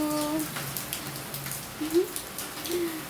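Steady rain patters outdoors in hot, windy weather, a soft continuous hiss of drops with faint bird coos and brief tones mixed in.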